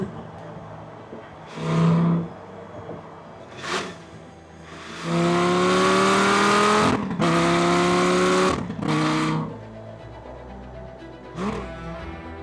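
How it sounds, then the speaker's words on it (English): A Lamborghini Gallardo Concept S engine revs and accelerates hard with the roof off, a loud rising roar with climbing pitch and audible intake suction, broken by short bursts and gear changes. "When you accelerate this car, you hear the suction of the intakes when you have no roof."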